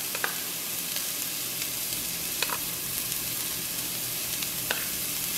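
Finely chopped carrot, capsicum and green peas stir-frying in a pan for egg fried rice, a constant close sizzle broken by a few sharp scrapes and clicks of the stirring spoon, with no voices.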